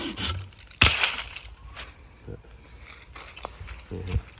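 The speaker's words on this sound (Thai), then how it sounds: "เราเลื่อยแค่มือเดียวนะครับ" A Gyokucho razor saw cuts wood one-handed in a garden setting, giving short rasping strokes, one sharp crack near the start, with someone talking between strokes.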